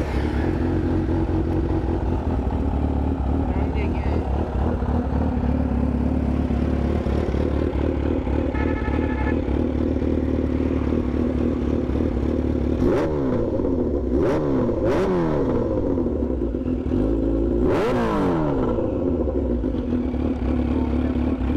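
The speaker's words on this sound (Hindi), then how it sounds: "स्टार्ट कर, इंजन की आवाज़ सुना दे बस।" A stock Kawasaki Ninja H2 sport motorcycle engine idles with a steady low rumble, then revs sharply several times in quick bursts, close by and loud.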